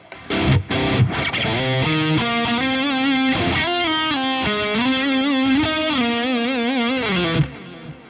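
Heavily distorted metal guitar through the Revalver 4 amp modeler, a few choppy muted stabs leading into sustained, bending chords and notes that ring out loudly and alone for several seconds.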